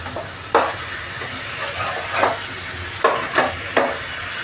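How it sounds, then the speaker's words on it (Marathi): Tandoori chicken sizzles steadily in a pan at home while being stirred and turned, with a continuous frying hiss broken by several scraping strokes of the spoon. "आता पुन्हा हे फिरून घेऊया."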